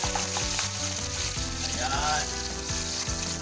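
Onion frying in hot cooking oil, a loud, close, steady sizzle with stirring scrapes throughout and a brief spoken word over it.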